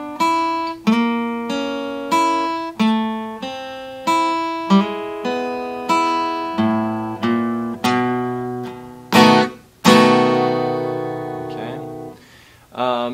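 An electric guitar plays a slow blues turnaround in E, with evenly spaced plucked notes and double stops ringing out one after another before a final strummed chord, close and clear with no voice.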